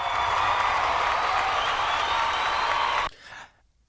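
Dense applause of many hands, loud and continuous for about three seconds, then cutting off abruptly and fading out.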